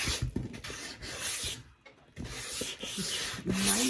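Sandpaper worked back and forth over painted wooden shelves to distress them, a close, continuous raspy rubbing with a brief pause midway, then steady strokes resuming, no speech.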